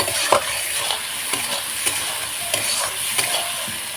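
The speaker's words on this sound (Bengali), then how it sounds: "ভালো করে মশলাটাকে কষাবো অনেকক্ষণ ধরে কষানো করে" Spice paste for chicken cooked over a wood-fired stove is sautéed in a pan, loud close sizzling broken by repeated rhythmic scraping strokes of a spatula, with no speech.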